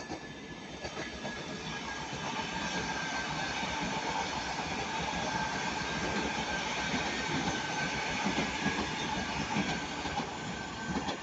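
A train bound for Blackpool North runs past at Ardwick, Manchester, a steady broad rumble with wheel clatter and faint squeal that holds at an even level from start to finish.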